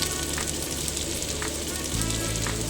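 Chopped onions fry in desi ghee for chicken changezi, giving a steady close sizzle throughout with soft stirring scrapes, under a quiet voice.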